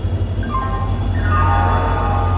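A train pulls into a railway station platform, a steady low rumble and broadband roar with a rising metallic whine and squealing tones over a few seconds, close and continuous.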